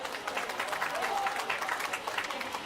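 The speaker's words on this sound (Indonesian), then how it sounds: "Kita berikan tepuk tangan yang meriah untuk beliau." A crowd applauds the mayor of Padang at a league closing ceremony, a dense, steady wash of clapping heard at moderate distance, with a voice faintly audible underneath.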